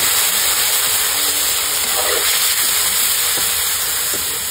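Ingredients tipped into a hot frying pan, giving a steady, fairly loud sizzle and hiss throughout with a brief clatter midway, no talking.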